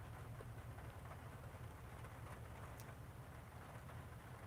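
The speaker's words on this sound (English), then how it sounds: "it's storming out here in Dallas right now. So I'm just enjoying the rain out here." Steady, faint rain pours during a storm in Dallas, an even broadband hiss with a low rumble beneath and no voices, constant throughout.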